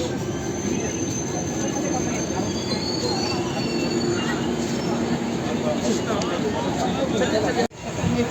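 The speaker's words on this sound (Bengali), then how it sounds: "ট্রেন এনজিবি স্টেশন থেকে ছাড়লো" A train pulls out of NJP station, its wheels grinding with a loud, continuous metallic squeal over a heavy rumble that drops off abruptly near the end.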